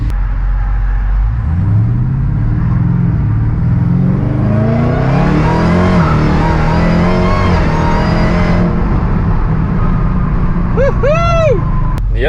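Hellcat-swapped Dodge Dakota pickup engine revving loud and close, rising to a sustained roar and falling back, with a brief whooping voice at the end.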